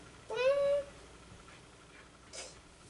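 A single clear cat meow rises and falls near the start, followed by faint quiet room noise and a soft breathy sound, indoors at a soap-making session.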